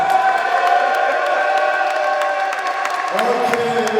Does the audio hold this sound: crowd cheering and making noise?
yes